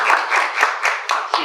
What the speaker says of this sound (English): Laura, enjoy that applause